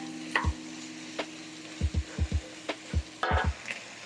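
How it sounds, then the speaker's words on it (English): Potatoes and vegetables sautéing in a pan for shrimp curry, a soft sizzle under repeated close scrapes and stirring knocks of a utensil against the pan, scattered and uneven, with no voices. "go ahead and saute those along with your vegetables for another 2 minutes or so"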